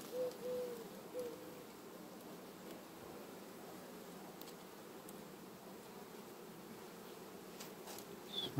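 Honeybees in an open hive in September, a steady low buzzing hum filling the background throughout, moderately near, with faint handling sounds and no speech.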